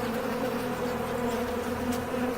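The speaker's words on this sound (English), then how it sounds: "You are seeing one of the most wonderful things in nature. Bees being born." A dense, steady buzzing of many honey bees as new bees emerge in the hive, close and continuous with no voices.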